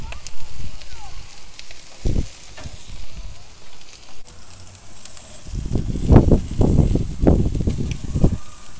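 Hot charcoal embers crackle and pop under şeftali kebab on the grill, with a few isolated snaps, then a denser run of sizzling pops while a voice speaks nearby.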